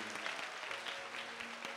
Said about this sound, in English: let's clap our hands for that lady